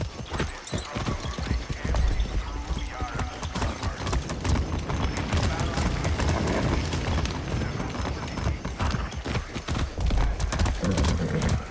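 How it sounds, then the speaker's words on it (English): Horse hooves clip-clopping steadily in the video game Far Cry 6, a dense, continuous rhythm of close hoofbeats with occasional whinnies and game sounds mixed in, no talking. "That's a good horse."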